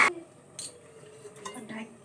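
A metal lid set onto a pot with a sharp clink at the start, followed by faint scattered clatters of kitchenware in a quiet room.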